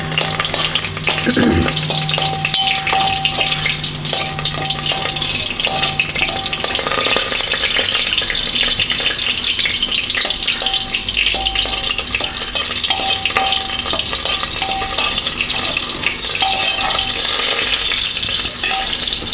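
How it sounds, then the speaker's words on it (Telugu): Garlic and onions fry in hot oil with mustard seeds for a steady, loud sizzle that holds throughout, with occasional spoon-on-pan stirring scrapes and a few pops; no talking. "ఆవాలు వేసుకున్న తర్వాత ఎల్లుల్లిపాయలు వేసుకుని ఉల్లిపాయలు కొద్దిగా వేగనివ్వాలి."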